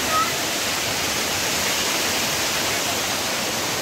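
The Mangaon waterfall in Sindhudurg, Konkan, roars as a dense, even rush of falling water that fills the whole stretch, close and loud, with no distinct voices above it.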